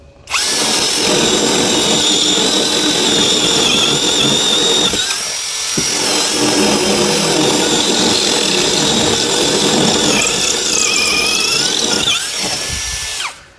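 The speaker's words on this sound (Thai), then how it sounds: "เดี๋ยวเรามาทดสอบกับดอกใหญ่นะพี่ เบอร์ 12 เลยนะครับ เป็นดอกยาว STR สวรค์แบตตัวเนี้ยเจาะปูนง่ายพี่" STR cordless brushless drill with a long 12 mm bit bores into a concrete wall, a loud continuous grinding whine that dips briefly near the middle before resuming, with no talking.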